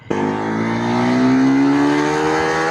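A Triumph Tracker 400 motorcycle engine revs up and accelerates, a loud, close, rising drone with a steadily climbing pitch after a sharp start.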